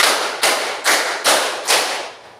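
Five evenly spaced hand claps from a counted clapping exercise ring out close by, about 0.4 seconds apart, each bright and snappy with a brief room tail.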